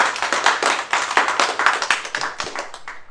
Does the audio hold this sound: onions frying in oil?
no